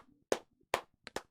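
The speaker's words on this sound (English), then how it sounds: "we'll just clap for you for that" A few separate claps from a small group, three or four sharp hits spaced irregularly and fairly close, with quiet gaps between them.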